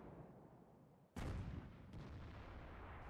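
Tier 4 SU-5 self-propelled artillery gun firing in World of Tanks, one sudden loud boom that decays into a rumbling roar, followed by a fainter second report and lingering low noise.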